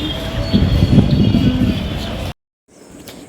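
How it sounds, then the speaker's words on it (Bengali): A train running about an hour late rumbles into a station in the rain, loud and close, its wheels grinding and rolling steadily before the sound cuts off abruptly. "প্রায় এক ঘন্টা লেট করে ট্রেনটা আসলো"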